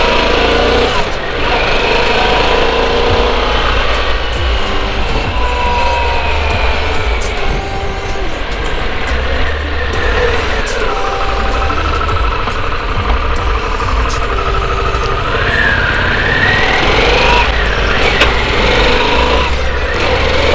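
A 2021 Harley-Davidson Pan America motorcycle running steadily on a ride around the block, a continuous low engine drone with wind rush at a constant loud level for the whole stretch, no talk heard.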